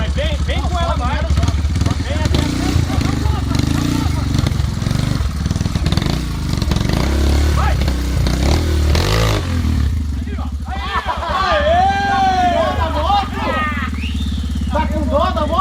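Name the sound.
trail motorcycle riding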